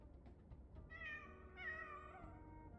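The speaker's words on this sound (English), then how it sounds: "What's a cat doing here?" A cartoonish cat in a video game gives two clear, close meows in quick succession, drawn-out and high-pitched over a quiet background hum.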